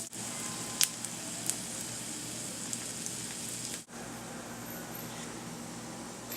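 Cheese melting in a hot pan gives a quiet, steady sizzle and crackle, with a few faint pops over a low, continuous hiss.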